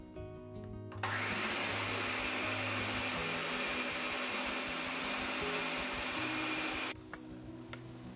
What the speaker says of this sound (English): throw it all in the blender for at least a few minutes